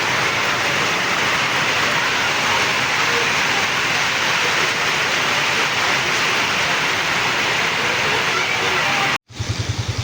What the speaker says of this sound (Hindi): आज जो बारिश का जोर है वो बहुत तेज़ है